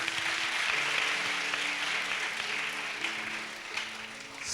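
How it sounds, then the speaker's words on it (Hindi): A church congregation at a fasting prayer service claps in sustained, steady applause filling the room throughout, with a faint low hum underneath. "वही लोग ताली बजाएंगे।"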